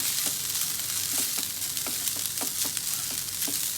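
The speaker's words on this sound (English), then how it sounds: "On medium flame we are like just heating it up." Ready-to-eat Zaffrani rice heats in a pan over a medium flame, making a steady close sizzle with soft, irregular scraping ticks as the grains are stirred, and no voices.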